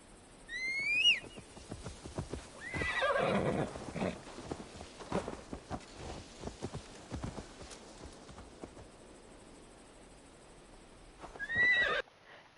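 A horse in the video game Assassin's Creed Valhalla whinnies loudly at the start, followed by scattered hoof clops and shuffling, then a second whinny near the end.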